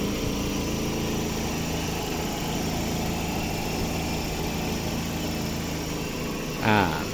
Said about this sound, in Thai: ลองฟังเสียงเครื่องอีกรอบครับ